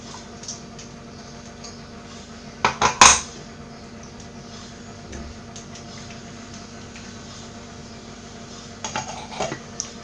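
Ground spice paste for a Kerala-style ayakora fish fry being scraped and moved into a vessel, with a few sharp metallic clinks of a spoon against a steel container and a faint clatter near the end, over a quiet room.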